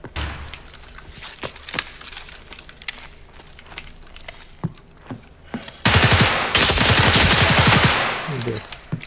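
Bursts of rapid gunfire in Escape From Tarkov crackle through the game soundtrack, scattered shots first, then a long, loud sustained volley of automatic fire near the end.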